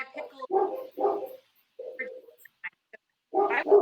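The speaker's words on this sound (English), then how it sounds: "Whose dog is that?" Dog named Monty barking in a home kitchen: a few loud, close barks in quick succession, a pause with small yips and noises, then another bark.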